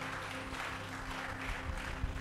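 A church congregation applauds at a French-language service, a sustained wash of clapping from many hands with a steady low hum beneath, no voices standing out.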